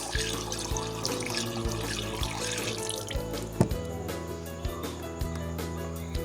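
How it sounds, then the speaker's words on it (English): Clean water runs steadily from a tap into a sink as hands are wetted under the stream, a close, continuous splashing with a few sharper drips and knocks. "Wet your hands with clean running water."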